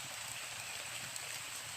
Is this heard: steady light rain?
yes